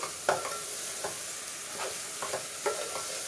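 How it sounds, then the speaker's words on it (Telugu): Masala frying in a pan for a village-style chicken curry, a soft continuous sizzle under scattered scraping stir strokes, fairly quiet and close. "మసాలా కాసేపు ఫ్రై చేసాము."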